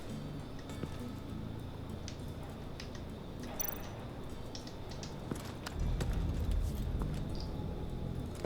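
Horse hooves clip-clop at a steady walking pace in the Batman: The Enemy Within video game, moderately quiet over a constant ambient bed that swells louder near the end.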